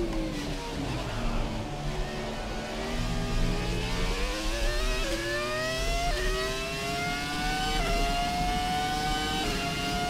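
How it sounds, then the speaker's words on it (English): A Haas Formula 1 car in F1 2017 at the Australian Grand Prix, its engine screaming loud and close as it climbs through gears, with repeated rising pitch sweeps and brief drops at each shift. "Just look at the sound of this car."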